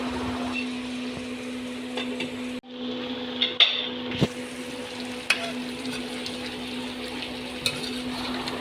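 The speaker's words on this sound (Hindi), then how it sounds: "हर 2-4 मिनट के बाद चमचे के साथ इस तरह हिलाते रहेंगे इसको" A spoon scrapes and clinks in a pan of sizzling beef liver and kidney, a few sharp taps over a steady low frying hiss.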